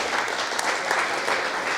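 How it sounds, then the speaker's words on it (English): Audience applause at a coaching talk, a full continuous burst of many hands clapping, loud and even across the whole moment with no voices over it. "Clap it up for yourselves."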